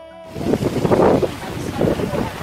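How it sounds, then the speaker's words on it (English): Heavy rain pours down hard outdoors, a dense continuous hiss that swells and surges with gusts, close and loud, no talking over it. "too scared to walk in the rain because it's pissing down, as you can see"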